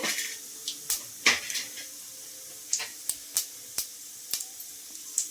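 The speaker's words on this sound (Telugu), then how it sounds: "అవి కొద్దిగా చిటపట అన్నిద్దామండి." Mustard, cumin and fenugreek seeds splutter in hot oil in a kitchen pan, a scattered series of sharp little pops and crackles over a faint hiss, close by and without talk.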